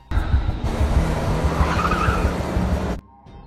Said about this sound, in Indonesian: Tiba-tiba ada sebuah mobil yang mengejar tim.